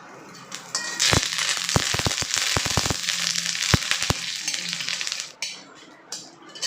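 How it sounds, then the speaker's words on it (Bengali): Curry leaves hit hot oil with black mustard seeds and dried red chilli, and the oil erupts into a loud sizzle. Sharp pops and crackles sound in quick bursts, then the noise fades. "আমি এর ভিতরে দিয়ে দেবো কয়েকটি কারি পাতা"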